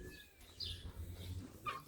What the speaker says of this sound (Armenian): Տեսնեմ հավերն ինչ են անում։